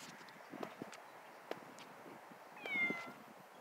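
Outdoors during skywatching, a cat gives a single short meow, faint and somewhat distant, against quiet background noise and a few scattered clicks.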